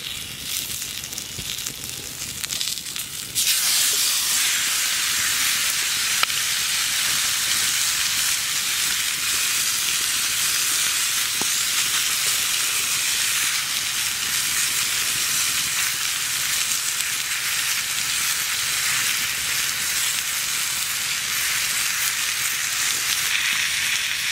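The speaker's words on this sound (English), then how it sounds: "We're just gonna throw the steak on." A steak sears in a hot pan: a soft start, then a loud, steady sizzling hiss that sets in abruptly and holds for the rest of the time, with no talking.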